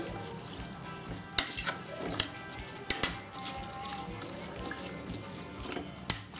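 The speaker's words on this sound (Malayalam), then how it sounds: "ഒന്ന് മിക്സ് ചെയ്ത് കൊടുക്കാം" A spoon stirs and mixes drumstick lentil curry in a metal pot, giving scattered close clinks and scrapes against the pot amid a low background hiss, with no talk.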